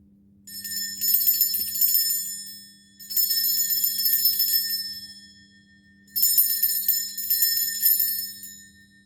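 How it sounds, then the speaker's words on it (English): A bright bell is struck three times to cleanse a space, each ring shimmering and fading slowly over a steady low hum, with no voices. "I'm going to ring a bell. This is just to cleanse the space around us."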